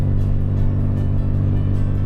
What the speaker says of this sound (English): My car is struggling going up these hills right now.